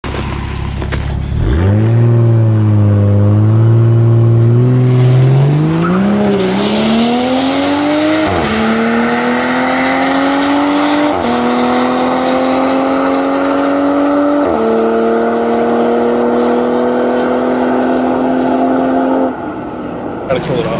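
A 2020 Toyota Supra launches hard on a quarter-mile drag strip, its engine note climbing through several gear shifts in a loud, sustained pull that fades at the end. There may be some faint chatter in the background.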